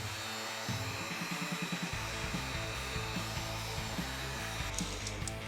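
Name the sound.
heating a Porsche Boxster brake caliper before priming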